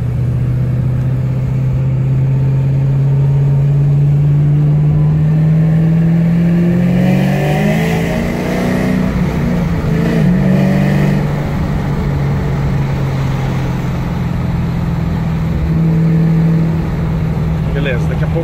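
A supercharged Chevrolet Camaro ZL1 V8 rumbles steadily at low speed inside a residential condominium, its deep engine note rising briefly and then settling back, with someone talking over it.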